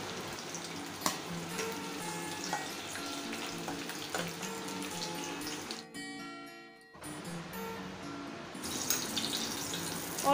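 Pointed gourds (potol) fry in hot oil in a home kitchen, giving a continuous crackling sizzle with scattered pops. The sizzle briefly softens midway, then returns, close by and fairly quiet.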